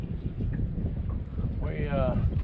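Steady wind buffets the microphone with a low rumble, and a brief voice-like tone rises near the end, on a boat while catfishing on Glenn Springs Lake.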